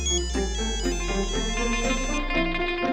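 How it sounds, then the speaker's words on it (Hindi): A phone ringtone plays an electronic melodic tune, bright, repeating notes sounding loud and clear with no one talking. "ये तिवारी, तेरे गुनहगार का फोन आ गया है, राजेश भाई का।"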